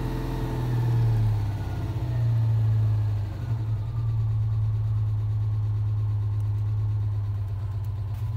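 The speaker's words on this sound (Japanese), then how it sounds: "はい、これでアイドリングです。" A Citroën 2CV, restarted after sitting unused for months, idles with a steady low drone that dips briefly and then settles into an even, continuous running note, close and without talk.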